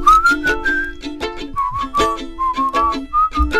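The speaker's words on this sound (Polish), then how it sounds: "Ja się żegnam z Państwem, ponieważ redaktor gwizdże." A person whistles a lively, bouncy tune in a comedic Polish entertainment sketch, with a clear melodic line of short phrases and quick note changes over a steady rhythmic backing, near and fairly loud.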